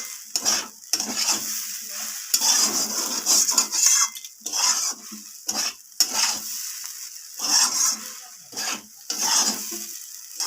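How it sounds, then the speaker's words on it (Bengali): A spoon scrapes and knocks against a pan while stirring spicy semolina mixed with coriander leaves, giving bursts of clinking metal and soft dry frying hiss in an uneven rhythm. "তো ধনিয়া পাতাটা দিয়ে আমি আবারও একটু নাড়াচাড়া করে নিচ্ছি"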